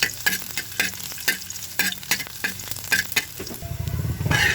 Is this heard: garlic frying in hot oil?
yes